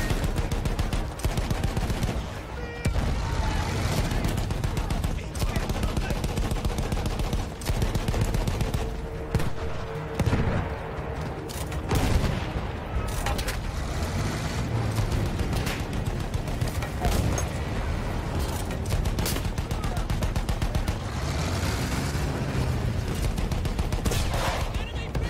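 World War I machine guns fire in a Battlefield 1 trench battle: a long, dense barrage of rapid automatic bursts, loud and continuous, with booms and heavy battlefield noise throughout.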